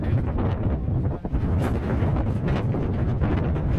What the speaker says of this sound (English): It is still very, very, very windy here.